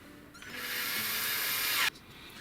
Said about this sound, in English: I'm actually going to drill right through this skull's nose on here.